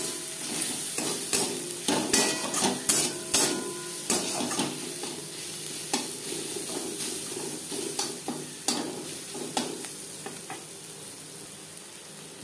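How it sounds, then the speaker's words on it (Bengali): Onion and garlic fry in a pan for dal fry, with a soft continuous sizzle under repeated scraping stirs. Sharp spoon knocks come in quick bursts early on, then fall into a slower, steady rhythm. "দু 3 মিনিট পেঁয়াজের সাথে রসুন নাড়াচাড়া করে নেওয়ার পর"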